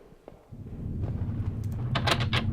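A stuck, locked door in a video game is tried: a soft thud, then a low hum and a quick run of rattling clicks as the handle is worked.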